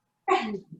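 A single short, sharp sneeze bursts out close by after silence, trailing into a brief breathy tail.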